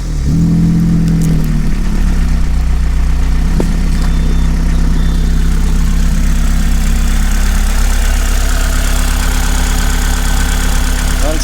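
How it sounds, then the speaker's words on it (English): A 2005 Lotus Elise engine cranks and fires, then settles into a steady, loud, close idle that holds evenly for the rest of the clip. "Let me fire it up for you and you guys can hear what it sounds like."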